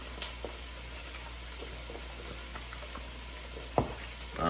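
Egg mixture for lasagna sizzles and browns in a pan, a steady low hiss with faint stirring scrapes and one sharper knock near the end, with no voices.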